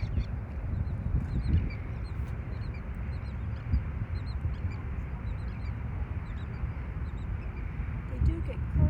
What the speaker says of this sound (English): tons of birds out there